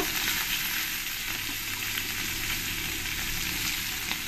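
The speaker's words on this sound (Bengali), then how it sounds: "এবার আমি এই গরম তেলের মধ্যে মাছগুলো আস্তে আস্তে সব দিয়ে দেব। দিয়ে মাছগুলোকে ভালো করে আমি ফ্রাই করে নেব।" Small puti and mourala fish fry in hot oil, a loud, dense, steady sizzle close by with fine popping spatter and no speech.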